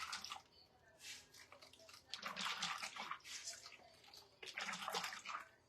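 A makeup sponge holding deep foundation is rinsed and squeezed in clean water, giving close bursts of splashing, sloshing and squishing separated by short pauses.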